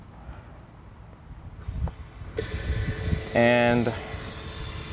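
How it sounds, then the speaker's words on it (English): A Yamaha 150 outboard engine's fuel pump actuates during a diagnostic test: a steady electric whirring buzz starts up partway through with a rising harmonic whine, pulsing briefly louder, amid a faint speaking voice and background hum. "you can hear the fuel pump actuating."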